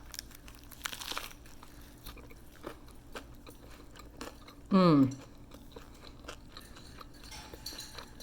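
Someone takes a loud, crunchy bite of a crispy BLT chaffle, a waffle made with cheese and egg, and chews once near the mic against a quiet room; a single burst stands out midway with faint handling noise before and after.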